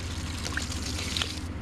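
Cold water left standing overnight pours from a container onto garden plants, a steady close splashing trickle that runs evenly for the whole stretch before thinning at the very end.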